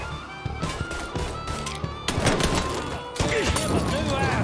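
Scattered gunshots and bursts during a firefight in Mafia 3: Definitive Edition, irregular cracks of moderate loudness mixed with game sound and voices.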